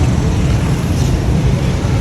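Steady, dense roar of road traffic with low engine rumble, continuous and fairly loud throughout, no distinct events standing out.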